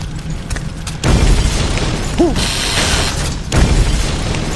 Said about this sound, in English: These barrels aren't for show and will explode.